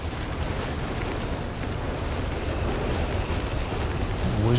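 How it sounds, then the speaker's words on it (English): Whizbang rocket artillery strikes explode in Company of Heroes 3, a dense, continuous rumble of blasts and booms filling the scene with no distinct gaps, loud and close. "Whiz-bang just landing some excellent hits there."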